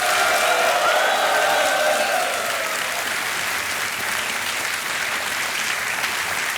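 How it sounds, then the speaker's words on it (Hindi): A studio audience on the KBC quiz show bursts into loud, full applause and cheering for a contestant, strongest at first, then settling into sustained even clapping. "तालियां और शोर मच जाए इनके लिए"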